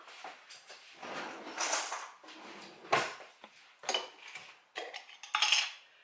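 Metal cutlery clatters and jingles in a series of quick bursts as a spoon is fetched from a kitchen drawer, close and fairly loud with short pauses between rattles; no speech.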